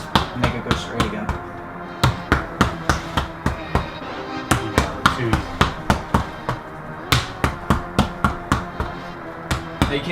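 Repeated punches and back fists strike a boxing heavy bag in a fast, steady rhythm of sharp, close thuds, about two per second, with brief pauses between bursts.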